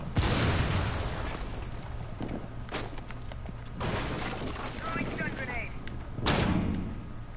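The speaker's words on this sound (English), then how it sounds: "Throwing stun grenade" A stun grenade is thrown and goes off in a video game: several sharp, loud bursts with ringing tails spread across the moment, mixed with gunfire-like pops and partly under a player's voice.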